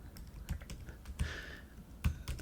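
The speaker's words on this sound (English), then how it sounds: "So if you hear my keyboard," Typing on a computer keyboard, with quick, scattered clicks and a few louder keystrokes, close and fairly quiet, with no talk over it.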